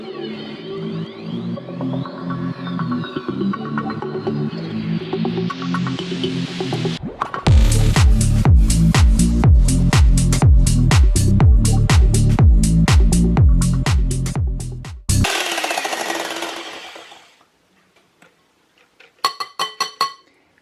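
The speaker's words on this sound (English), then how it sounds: "I'm going to save time and use my good old electric whisk" An electric whisk beats meringue, a loud steady motor whine with rapid clattering against the bowl that stops abruptly, followed by a few quieter taps and brief clicks.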